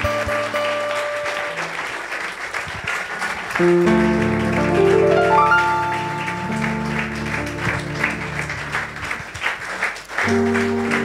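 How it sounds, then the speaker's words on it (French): Congregation at a French-language deliverance church service clapping in acclamation, a loud sustained round of applause mixed with music tones and crowd noise. "Glorifions le Seigneur par des acclamations et asseyons-nous."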